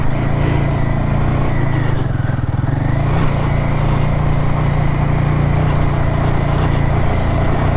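A Royal Enfield motorcycle engine labors in first gear up a steep dirt track on the back road from Matlock to Mt Terrible, a loud, steady, droning rumble that holds throughout with no pauses.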